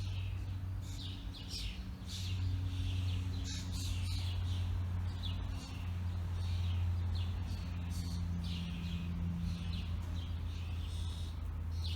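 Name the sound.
birds singing in a garden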